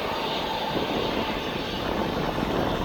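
Steady, loud roar of a Jet2.com passenger jet at East Midlands Airport, a broad continuous engine rumble holding level throughout with no voices.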